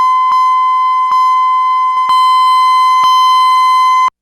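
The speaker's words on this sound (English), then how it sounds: "How does this sound if I crank down the bit depth?" Synth sample with reduced bit depth: a steady, loud, harsh buzzy tone with rich harmonics, punctuated by a few brief clicks, running continuously before cutting off abruptly.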